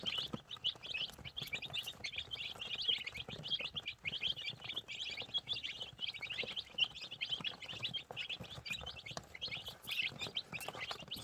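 Light Brahma chicks about five or six days old chirp continuously, a dense flock of high, rapid peeps overlapping throughout with no talking.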